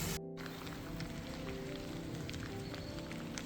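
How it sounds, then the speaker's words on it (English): Rain falling outdoors on a mountain hike in the Italian Dolomites, a steady dense patter with scattered sharper drops, moderately close and continuous, with a brief dropout near the start. "So as you can see, rain's died down a little bit."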